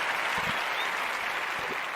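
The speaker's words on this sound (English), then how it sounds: "we want to give them a round of applause" An audience gives a round of applause at a toast celebration, steady and fairly soft, a continuous wash of clapping with no voices on top.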